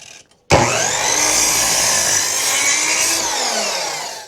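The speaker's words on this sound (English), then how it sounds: "cut that at a 45-degree angle vertically" A saw cuts a 45-degree angle through a wooden birdhouse piece in one loud, continuous, close-up rasping stroke that starts abruptly after a brief quiet moment and runs steadily to the end.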